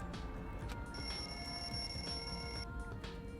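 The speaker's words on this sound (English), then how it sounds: "The lounge's wall clock alarm started ringing at 5:30." A wall clock alarm rings in the lounge in the video game Danganronpa 2, a steady electronic bell tone sustained for a couple of seconds over a quiet, hissing game background.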